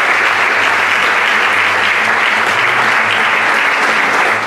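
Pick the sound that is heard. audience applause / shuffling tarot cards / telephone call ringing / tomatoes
audience applause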